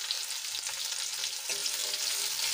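Chilies, garlic cloves and ginger pieces frying in hot oil in a pan, a steady close hiss and crackle of sizzling throughout, with no talk.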